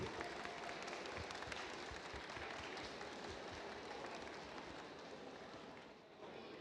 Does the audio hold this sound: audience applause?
yes